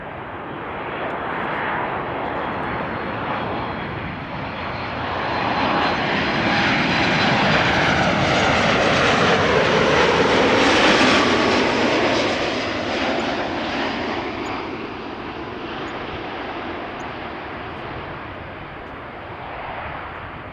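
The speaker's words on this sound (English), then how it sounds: "Iceland Air, there it is, flight 500, another MAX 8 arriving from Iceland" An Icelandair Boeing 737 MAX 8 arrives at Amsterdam Schiphol, its jet roar swelling from a distant rumble to a loud, close pass and then fading away, with no talk over it.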